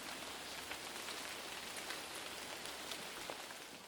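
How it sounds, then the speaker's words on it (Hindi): Soft, steady rain patters continuously, a quiet even hiss of drops with no voices. "ताकि बारिश का जो नॉइज है वो पूरे सीक्वेंस में थोड़ा थोड़ा आता रहे।"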